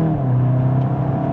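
A Volkswagen Golf GTI MK8.5 Clubsport, a 300-horsepower front-wheel-drive hot hatch, accelerates while overtaking on the road. Its engine gives a steady, close, droning note heard from inside the car, with no talking.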